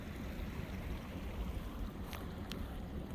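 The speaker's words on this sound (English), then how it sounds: "So there's this valley here with this beautiful babbling stream." Babbling stream winding down a mountain valley, a soft steady rush of flowing water, faint and continuous, with a couple of brief sharper splashes.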